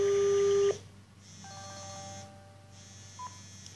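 An NEC SL1000 office phone dials out to a mobile number: a steady tone cuts off, followed by quiet electronic key beeps and hissing line tones, heard alone with no talking.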